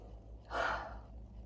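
A single audible breath, a quick gasping inhale of about half a second that rises and fades, set against a quiet steady background hum with no talking.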